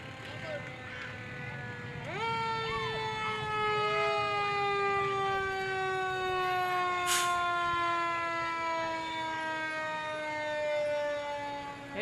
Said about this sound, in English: That truck has a loud whistle.